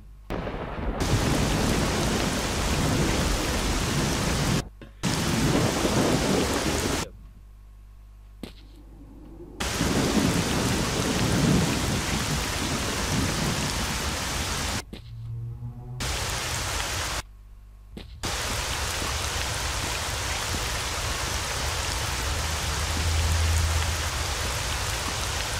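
Steady heavy rain pours in S.T.A.L.K.E.R.: Shadow of Chernobyl, with rumbling thunder rolling in, loud and close, broken by several abrupt near-silent cuts before the downpour resumes.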